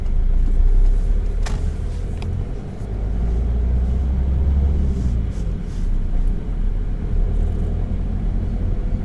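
A car pulls away on a road during a driving test, its engine a low steady rumble throughout, close by from inside, with light clicks and no talking.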